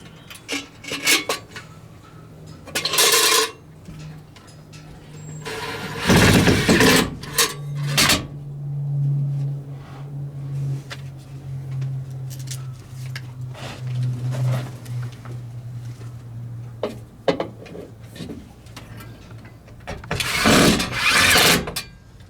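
Screws with washers are driven in by a power tool to mount a waterer: several short bursts of whirring, one longer loud run, and a low motor hum, with scattered metallic clicks and handling noise between them.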